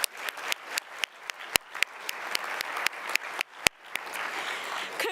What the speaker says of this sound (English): but let's applaud him nonetheless.